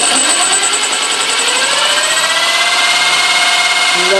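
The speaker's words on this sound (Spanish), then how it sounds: "con la propia presión del taladro" A loud, continuous whine of an electric drill running steadily at high speed, boring through ceramic without added pressure, its pitch shifting slightly as it bores.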